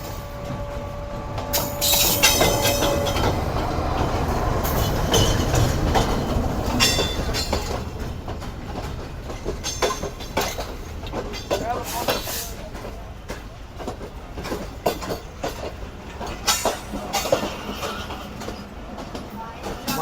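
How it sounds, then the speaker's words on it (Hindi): The 2 Down Khyber Mail passenger train between Peshawar and Karachi, hauled by a diesel locomotive, rolls into Rahim Yar Khan railway station with a horn blast, then a long run of rhythmic wheel clatter over rail joints, loud and close. "फाइनली पेशावर और कराची के दरमियान चलने वाली 2 डाउन खैबर मेल GU40 9039 के अप्रोच बना रही है रहीमिया खान रेलवे स्टेशन पर।"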